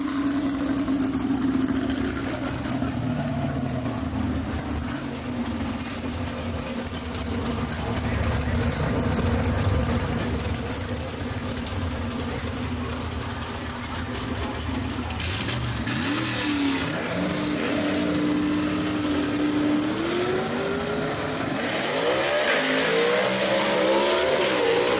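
A C/Gas gasser drag race car idles loudly at the line at Kil-Kare Dragway, then its engine note sweeps up and down as it launches and runs down the strip, with an announcer talking over it throughout.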